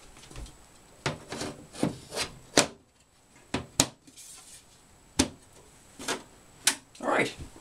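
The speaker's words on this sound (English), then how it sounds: "And now we just put the panel back." The metal side panel of a Mac Pro tower computer is fitted back on, giving a string of close knocks, clicks and sliding scrapes at an uneven pace, with brief quiet pauses between handling sounds.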